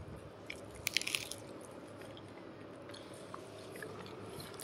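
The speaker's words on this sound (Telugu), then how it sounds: "Kebab super. క్రిస్పీగా లోపల జ్యూసీగా ఉంది." A few crisp bites and crunches into a fried chicken kebab from a restaurant, clustered near the start, followed by soft quiet chewing against a low background hum.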